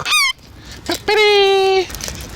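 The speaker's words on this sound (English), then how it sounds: "Excuse the noise, too many parrots," Loud, harsh calls from a flock of parrots ring out close by: a short rising squawk, then a longer sustained honking screech, with no talking.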